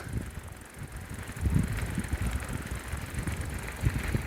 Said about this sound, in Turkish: Oho rüzgar.